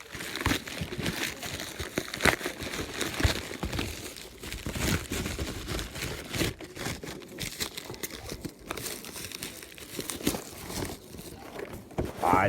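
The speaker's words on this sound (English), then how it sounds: "This week, I'm gonna unwrap this just slow." Plastic shrink-wrap being slowly peeled off a Microsoft Office 2007 Ultimate retail box, a steady close crinkling and crackling with occasional sharper tearing snaps, no one talking.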